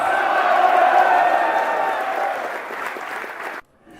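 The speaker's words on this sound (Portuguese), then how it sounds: "E se você crê, dá um glória e aplaude esse Deus." A church congregation claps and cheers with whoops and shouts in a loud, dense burst that fades gradually before cutting off abruptly near the end.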